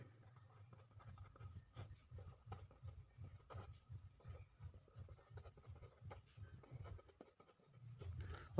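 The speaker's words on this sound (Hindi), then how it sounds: "अपन इधर लिख लेते" Hand writing of notes during a science lesson, a soft, quiet, rhythmic scratching of pen strokes on paper with short pauses, with no talking.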